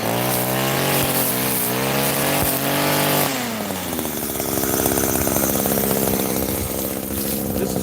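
A small two-stroke engine, likely a weed whacker, whines loudly in a cemetery, rising and falling in pitch and then dropping to a rougher, lower buzz, close by with no talk.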